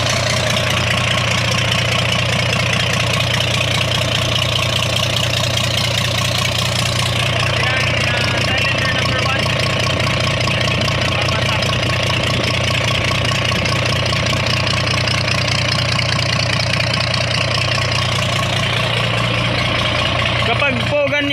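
A diesel engine idles steadily with one fuel injector removed, giving a loud, continuous knocking rumble close by for the whole stretch, with no change in pace.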